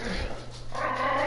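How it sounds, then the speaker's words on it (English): A dog gives a short whimpering yip and bark, brief and moderately close, mixed with other sounds and a bit of background noise. "Yeah, that's my dog, Toby."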